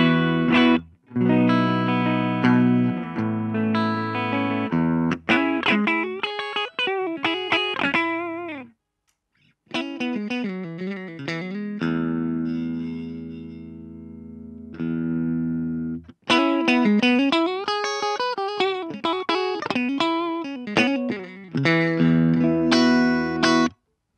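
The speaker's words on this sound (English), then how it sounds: "if I were to turn it to the left, which should give me a much more American sounding tone. It's going to sound a bit more spanky," An electric guitar through a mini amplifier, either a Boss Katana Mini or a Blackstar Fly 3, set to a bright American tone plays chords, single-note runs and a long sustained bend, with brief pauses, loud and unaccompanied.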